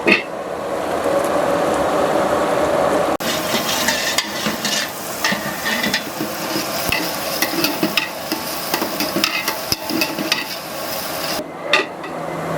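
Onion and mint being stirred in a large frying pot for a big batch of chicken kurma, a steady close scraping and sizzling mix that runs throughout with brief pauses, no voices.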